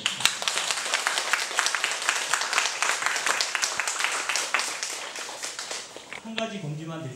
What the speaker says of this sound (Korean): 박정원 신현님한테 박수